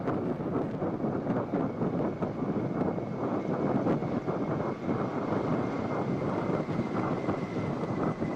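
Three Navy Eagle helicopters flying past in arrowhead formation at the President's Fleet Review 2022 in Visakhapatnam: a steady, loud rotor and engine roar mixed with wind buffeting, continuous and without talk.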